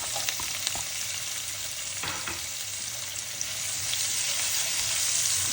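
A medium onion fries in hot oil with ground garlic in a wok for chicken pasta. A loud, continuous sizzle runs throughout, with scattered stirring scrapes and no talking.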